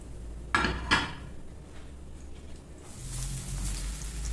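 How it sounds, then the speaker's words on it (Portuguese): A steak fries in a home kitchen pan with a soft, steady sizzle. Two sharp clatters of utensils sound near the start, and the frying grows louder and fuller toward the end. "Vou só esperar o steak fritar aqui."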